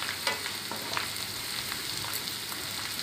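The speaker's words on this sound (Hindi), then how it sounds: "अदरक लहसुन को अच्छे से फ्राई कर लेंगे गोल्डन ब्राउन" Ginger, garlic and onion frying in hot oil, a steady dense sizzle running throughout with a few brief scraping stirs of a spoon against the pan, close and fairly loud, no voices.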